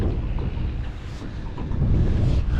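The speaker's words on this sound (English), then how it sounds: "there's a bit of wind blowing" Wind gusting against a microphone on a fishing trip off the Gold Coast, a steady low rumbling roar that swells slightly toward the end, with no talking.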